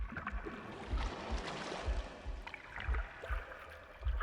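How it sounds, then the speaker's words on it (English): Gurgling water in The Last Campfire, a low bubbling, pulsing gurgle with soft splashy texture, moderately quiet and alone. "The gurgling of water,"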